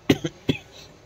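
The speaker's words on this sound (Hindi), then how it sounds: "तो खांसी भी नहीं बंद हो रही मेरी।" Three short coughs, close and fairly quiet, the first two quick together and the third after a brief pause.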